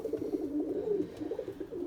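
Fantail pigeons coo in a low, continuous rolling murmur close by, the soft throaty warbles overlapping steadily with no talk.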